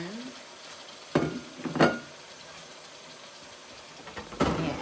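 Meat frying in a pan for kaldereta, a steady low sizzle with a few louder sputters and clanks of stirring, close by.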